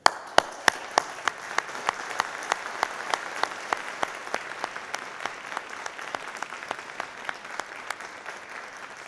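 A graduation ceremony audience in a hall applauds steadily and warmly, with dense clapping and sharper individual claps spread throughout.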